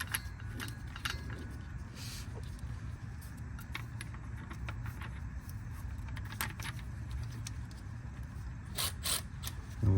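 E-Torx bolts handled and started by hand on a BMW during a rear differential bushing and guibo job, giving light metallic clinks and jingles over a low background hum.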